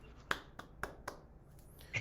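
A single person clapping hands in a quiet room, several sharp separate claps at an uneven pace, close and clear against near silence.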